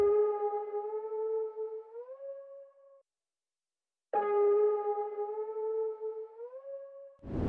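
A Kilo Key synth counter melody from the Ether Multi Kit plays two sustained, bright harmonic notes, each sliding up in pitch before cutting off, separated by a short silence.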